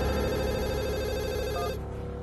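A telephone rings indoors with a steady, bright electronic ring that holds for nearly two seconds, then cuts off and leaves quiet room tone. No one speaks.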